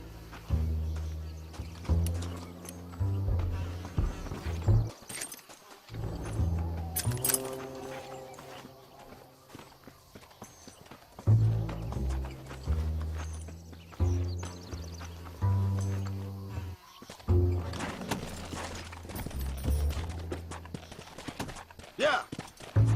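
Horse hooves clip-clop at a steady gait while riding in Red Dead Redemption, with jangling tack and game music and voices layered over the rhythmic footfalls.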